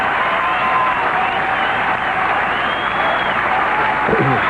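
A large golf crowd at the 1987 British Open Championship applauds in a dense, continuous roar of clapping that holds steady throughout, broad and enveloping like a grandstand reception.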